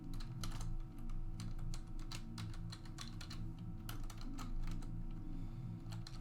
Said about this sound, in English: I'm pressing the E key and nothing's happening.